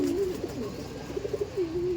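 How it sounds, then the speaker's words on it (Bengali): A large male pigeon coos in a low, wavering tone, with a drawn-out call at the start, a few short pulsing notes in the middle and another sustained coo at the end, close and clear. "এই দেখুন এটা ছিল মেল পায়রা"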